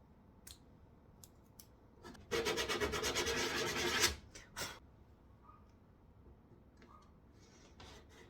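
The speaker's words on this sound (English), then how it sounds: "I'm going to use this sanding sponge to gently brush away the excess paper" A sanding sponge rubs briskly over paper-covered wooden furniture to brush off the excess, a close scratchy burst of strokes lasting about two seconds amid scattered lighter scrapes.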